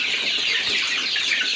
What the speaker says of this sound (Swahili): Tunaona vile kuku wanang'ang'ana hapa.